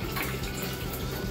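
Dissolved brewing salts in water poured into a vessel of strike water while brewing a chocolate coffee stout, a steady, close rushing splash of liquid that continues evenly throughout with no talking.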